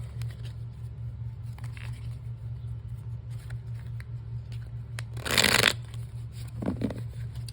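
Tarot cards shuffled by hand in a quiet room, a soft continuous riffle with one louder burst of fast card flutter near the end, over a steady low hum.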